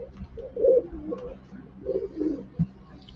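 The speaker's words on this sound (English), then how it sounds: "We're having bird wars here. Hear the loud pigeons." Pigeons coo in a video game, several soft, rounded low coos in two short bursts, fairly quiet with a faint background hum.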